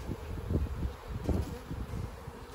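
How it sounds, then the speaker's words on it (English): A steady swarm of bees buzzing close by, a dense, continuous drone that rises and falls slightly over a couple of seconds. "we got a lot of bees around on this one"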